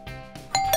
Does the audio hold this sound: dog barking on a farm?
no